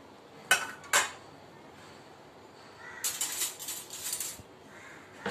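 Gram flour batter with salt and turmeric being mixed in a bowl: two sharp clinks of a utensil against the bowl, a pause, then a cluster of quieter scraping and stirring strokes, close and fairly faint.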